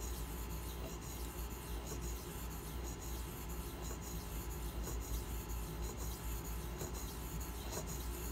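A Spyderco Manix 2 knife blade rubbed along a coarse Pride abrasive sharpening stone, a faint, steady gritty rasp of repeated strokes with no talk.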